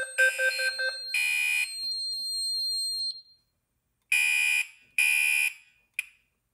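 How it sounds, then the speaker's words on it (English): A fire alarm panel goes into alarm after a pull station is activated, sounding loud, harsh electronic blasts, several bursts separated by short pauses, with a lingering high tone between them. "the panel went into alarm"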